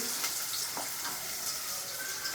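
Onions frying in a pan on a home stove, a steady close sizzle and crackle with occasional stirring scrapes throughout, no talking.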